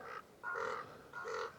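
Crows cawing outdoors at Lake McClure in Mariposa County, California: three loud, harsh caws spaced about half a second apart, close by, with wind noise in the background.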